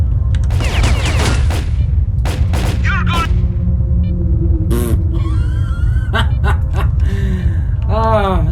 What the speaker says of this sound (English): The reason why I shoot like that is there's a lot of recoil.